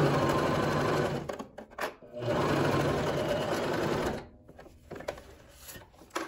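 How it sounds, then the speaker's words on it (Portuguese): Sewing machine fitted with a size 14 needle stitching with a short backstitch, running in steady bursts that pause briefly and then resume, loud and close. "Dou um retrocesso e venho costurando."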